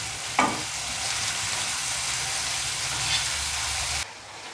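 Chopped onions with a pinch of salt sizzle steadily in a hot pan for aval (poha) upma, with a brief stirring clatter near the start and an unbroken frying hiss that drops off abruptly near the end.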